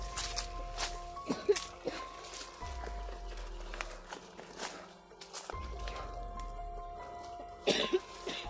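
Several bursts of coughing and throat clearing, close by, spread across the span with scuffing movement and a low hum underneath.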